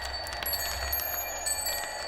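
A bell carousel on a marble race track dings steadily in the background, its thin tones sitting over a constant mechanical rumble and whir.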